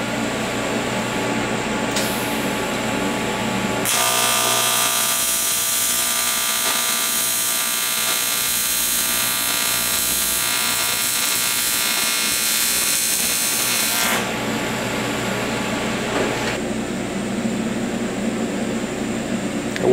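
TIG welding on aluminum fed with Lincoln filler rod: a steady, loud electric buzz and crackle of the arc runs for about ten seconds between quieter shop noise, with no talking.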